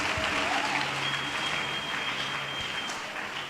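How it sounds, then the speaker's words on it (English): A church congregation claps hands together in worship, a dense continuous patter of many hands filling the room, fairly loud and steady, with faint voices underneath. "You are clapping your hands unto Jesus."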